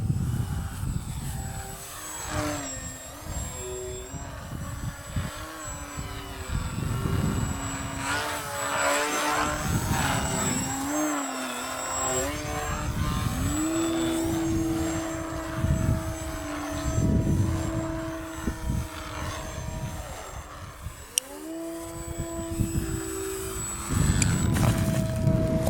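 A Twisted Hobbys 35-inch EPP Crack Turbo Beaver RC plane flies with a steady electric motor whine that rises and falls in pitch as it passes, fairly distant, with no talking.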